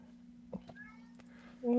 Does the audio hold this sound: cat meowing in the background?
yes